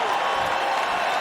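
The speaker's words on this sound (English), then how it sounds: "Now the Tennessee crowd on its feet." Home crowd at a 2006 Tennessee Titans NFL game against the Cowboys, roaring and cheering in a steady, dense wash of noise from the stands without a break.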